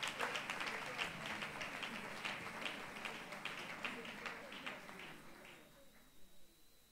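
Church congregation applauds and cheers during a consecration and installation ceremony, dense rhythmic clapping with shouts that gradually fade to scattered claps and voices near the end.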